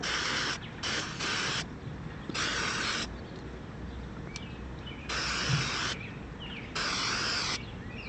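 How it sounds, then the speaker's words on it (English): An aerosol cleaner sprays the outside of a Reo carburetor in a series of short, sharp hissing bursts, some close together and others spaced apart, fairly faint against a quiet background. "First thing we're going to do is simply just hose down the outside of it and clean off any grass or any other kind of gunk"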